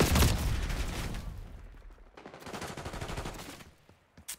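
Rapid automatic gunfire from a Black Ops 6 match rattles in loud sustained bursts, dropping off briefly before another long burst and trailing away.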